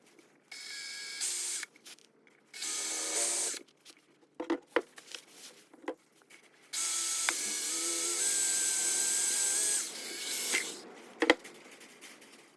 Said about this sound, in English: So I put a slightly bigger drill in the outside skin only.